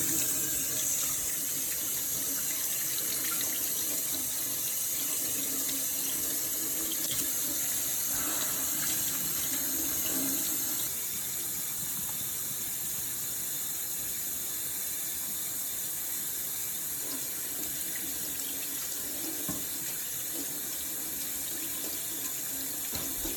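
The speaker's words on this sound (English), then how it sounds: "First, we wash our hands." A tap runs steadily for a long stretch while hands are washed, water splashing into a sink close by, easing slightly quieter partway through; no one speaks.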